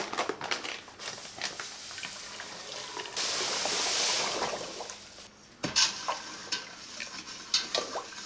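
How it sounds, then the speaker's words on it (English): Sugar is stirred into hot water in a bowl for a sugar wash: scraping, sloshing stirs with a louder hissing swirl in the middle, close by and with no talking. "I'm going to add the sugar to it to mix it up"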